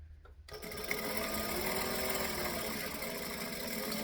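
A sewing machine stitches fabric pieces with a 1/4 inch seam allowance, its steady close mechanical whir starting abruptly after a brief quiet moment and running continuously without pause.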